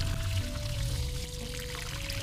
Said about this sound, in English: just add some hot water